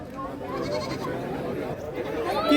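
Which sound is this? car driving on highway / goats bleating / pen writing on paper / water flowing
goats bleating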